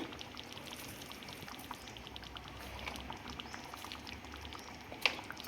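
Chole curry simmers in a pot with a steady, soft bubbling and popping that runs throughout, with one sharper pop near the end.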